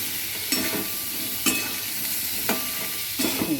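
Vegetable stems dropped into hot oil with cumin for a mixed prawn curry sizzle steadily, with a few sharp clatters as they go in and are stirred; close and alone.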